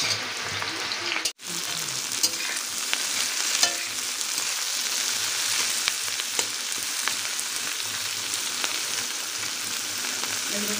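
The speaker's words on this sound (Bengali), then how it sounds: "আলু এবার ভাজা হয়ে গেছে, তুলে নাও।" Potatoes fry in a pan with a steady, close hiss and crackle that runs the whole time, broken only by a brief gap early on. No one speaks.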